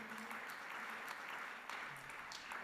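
An audience at an international keynote event on women's empowering and education applauds to welcome a speaker on stage, a fairly faint, continuous patter of clapping heard from a distance.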